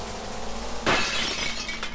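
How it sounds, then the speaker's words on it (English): A magic mirror in the adventure game King's Quest VI suddenly shatters, giving a loud burst of breaking glass over a low ambient game score, with a bright crackling tail that fades out. "And the mirror shatters."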